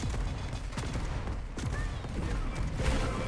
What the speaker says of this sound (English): He's got the nail gun apparently